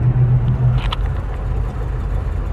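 A 1971 Plymouth Cuda's engine idles steadily with a low rumble and a faint rattle, close by, with no voices.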